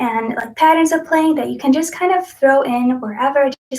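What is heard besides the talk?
No distinct noise like a dog, phone or traffic.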